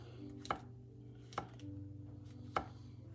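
Three sharp, isolated knife chops through thick mushroom slices, stems included, land on a cutting board about a second apart, crisp and close against a low steady kitchen hum.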